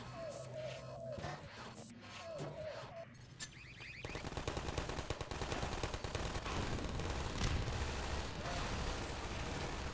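Automated turret gunfire in Half-Life 2, a rapid, sustained stream of shots that begins partway through and continues loudly to the end, preceded by quieter game sounds.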